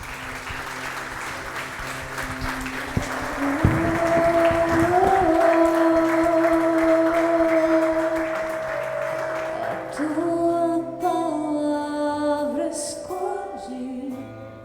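A church congregation at Igreja Abba Pai in Bragança Paulista applauds in a sustained, fairly loud wash of clapping, with held keyboard-like musical tones rising beneath and carrying on after the clapping thins out.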